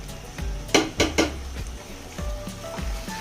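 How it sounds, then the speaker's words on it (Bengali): A spoon stirs chicken pieces with cumin paste and coriander powder in a cooking pot, giving a few scraping clinks against the metal and a soft sizzle, close and moderately loud with no talk. "মশলার সঙ্গে মাংসটা ভালোভাবে নেড়ে নিব।"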